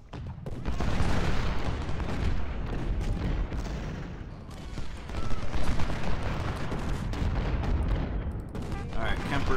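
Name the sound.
heavy guns firing in Ultimate General: Civil War video game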